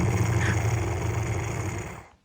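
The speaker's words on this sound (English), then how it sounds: "Listen to that. That's a shame now I do snore." Deep, rumbling snoring fills the clip steadily at close range, a low throaty drone that cuts off abruptly near the end.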